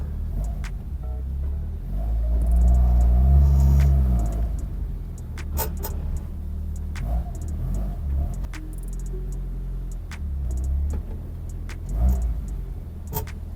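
A Nissan Skyline R34 GT-R with a janky gearbox drives at low speed, its engine rumbling steadily close by, swelling once as it pulls away, with a few small clicks and knocks.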